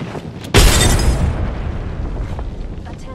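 A frag grenade detonates in a video game with a sudden heavy boom, then a long rumbling decay fades under steady game ambience.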